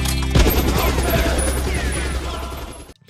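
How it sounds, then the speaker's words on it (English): Continuous rapid Yellow Eco energy shots fired in Jak and Daxter, a loud, dense stream of blasts that cuts off abruptly near the end. "Yellow Eco can be used to shoot things."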